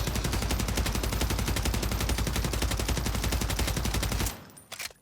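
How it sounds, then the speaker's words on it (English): Sustained full-auto burst from an SVA rifle in Call of Duty Warzone, a dense rapid stream of loud gunshots for about four seconds, then abrupt stop with faint clatter afterward. "So we can full auto this gun"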